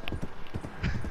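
Hooves of a black horse clip-clopping in a steady, close rhythm of repeated knocks, with faint voices in the background.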